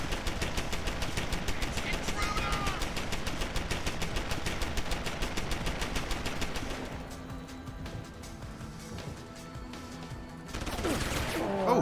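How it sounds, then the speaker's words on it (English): An automated turret in Deus Ex: Human Revolution (Director's Cut) fires a long, steady rapid stream of shots, then the barrage drops away to quieter background before a brief loud burst returns at the end. "What's the turret shooting at?"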